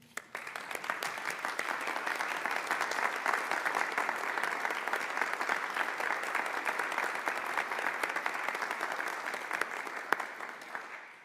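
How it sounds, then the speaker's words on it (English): Applause fills the Oregon Senate chamber, dense and sustained at an even level for about ten seconds before tapering off at the end. "give her a rousing round of applause to showcase our appreciation for the hard work that she's put forward"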